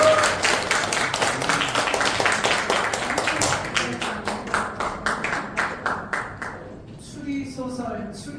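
An audience at a Korean pioneers' day event applauds, dense clapping that thins into scattered individual claps before fading out, with faint voices at the end.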